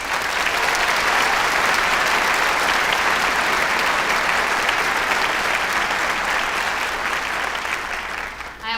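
A commencement audience at Trinity University applauds loudly and continuously, a dense sustained roar of clapping that fades slightly at the end.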